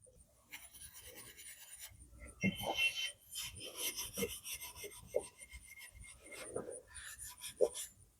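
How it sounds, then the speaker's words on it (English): Metal part pressed against a bench buffing wheel in a cluttered home shop, giving intermittent close rasping and rubbing bursts with short pauses between passes. "Let's switch over to our buffing wheel here."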